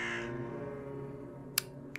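A crow caws in the video game Drake Hollow, a single harsh call over a steady low ambient game soundtrack, followed by two short sharp bursts.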